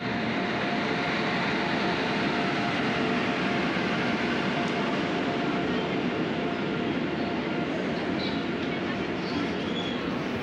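The Dibrugarh–New Delhi Rajdhani Express pulls into New Jalpaiguri station with a steady, broad rumble of rolling wagons that holds evenly at moderate loudness throughout, with no voices on top.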